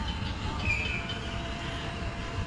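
A small children's park train runs nearby with a steady low rumble and faint rattle of its wheels, fairly quiet and continuous with no voices.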